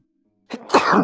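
A single abrupt sneeze bursts out close by after a moment of near silence, short and sharp with a brief follow-through.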